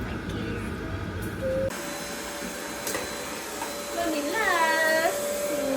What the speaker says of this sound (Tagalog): Narinig niya yung vacuum, bumalik siya dito.